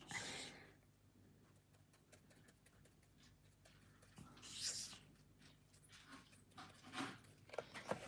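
A pet dog panting close by, quick breathy huffs in uneven bursts that grow louder toward the end, over a faint background hum.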